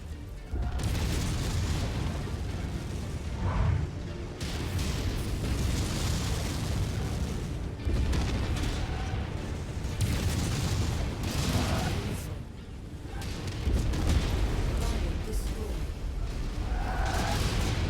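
Missile explosions boom in the mech combat game MechWarrior 5: Mercenaries, a dense run of loud, heavy blasts that keeps going with short lulls between waves of impacts.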